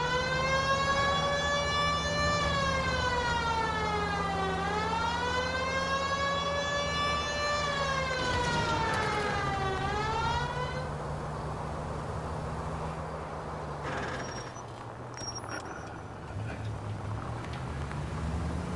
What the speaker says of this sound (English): The siren, Cole. Use it.